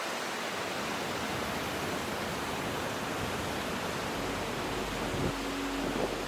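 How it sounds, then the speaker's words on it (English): A waterfall on Iceland's Snæfellsnes Peninsula roars as a steady, loud broadband rush of falling water, continuous and unbroken throughout, with no voices. "Maybe that's my new favorite waterfall."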